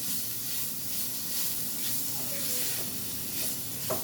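Ground coriander, cumin and black pepper fry in hot oil in a pan, giving a steady close sizzle and hiss with faint stirring scrapes.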